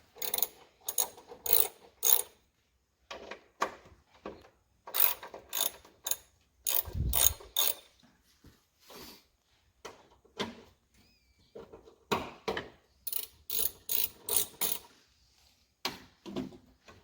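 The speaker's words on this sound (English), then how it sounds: "10mm little bolts there that we're going to take off" A hand ratchet spins off small 10mm bolts from a Subaru clutch bracket in a workshop, sounding as clear, close bursts of rapid pawl clicking separated by short pauses, with a few thumps of handling between runs.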